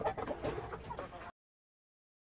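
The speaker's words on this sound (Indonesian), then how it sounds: "yang ini adalah ayam yang nanti akan kita gabungkan menjadi satu" Chickens from several coops being put together in one pen, clucking and squawking in a busy cluster for about a second, then silence, with a short loud burst at the very end.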